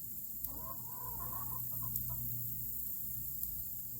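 Soft, low clucking from a hen or two over a steady hum, with faint occasional ticks in the background.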